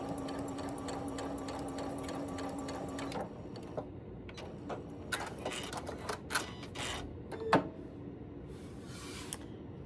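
A sewing machine runs in a steady fast whir for about three seconds while stitching a final anchoring seam in fabric at the top of a column, then stops, followed by scattered clicks and handling noises.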